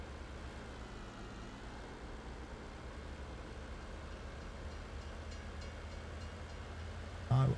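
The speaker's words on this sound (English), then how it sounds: "Train's in the way." A train sits stalled across the level in a video game, giving off a steady, low mechanical rumble that continues unchanged throughout, with a brief knock near the end.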